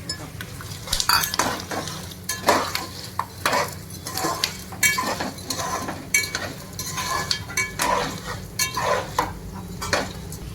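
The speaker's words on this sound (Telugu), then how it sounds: "పల్లీలు కొద్దిగా వేగించారు వేగించుకోవాలి పల్లీలు వేయించినప్పుడు పుట్టినాలు కూడా వేసుకోవాలి" Peanuts are fried in a pan while a utensil stirs them in repeated rhythmic scrapes and clatters over a soft, constant sizzle, close and alone with no talking.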